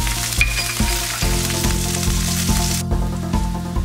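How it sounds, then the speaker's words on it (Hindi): Finely chopped green chillies with cumin fry in hot oil in a pan, a steady loud sizzle broken by regular scraping stir strokes about every half second. "हमने मिर्ची को भून लिया है अच्छे से"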